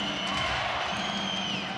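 Home supporters roar steadily at a 2014 CEV Champions League men's volleyball final in Ankara, Halkbank hosting Belogorie Belgorod; a dense, continuous wall of crowd noise with whoops and cheers, no breaks.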